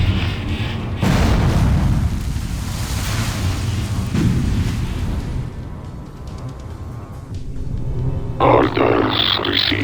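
Heavy explosions rumble and boom continuously during an attack in the real-time strategy game Ground Control 2, dense and loud, with unit voice responses spoken over the blasts.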